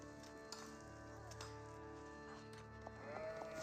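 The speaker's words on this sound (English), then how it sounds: "Some sheep being collected up over here." Sheep bleat faintly in the strategy game Age of Empires 4, brief calls set under a steady hum of game music and ambience.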